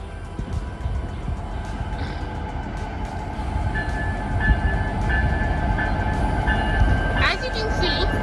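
White Pass and Yukon Route locomotive 3002, running long hood forward, rolls past with a growing rumble and rail clatter, a sustained engine tone and a brief horn-like blast near the end, while a voice speaks over it.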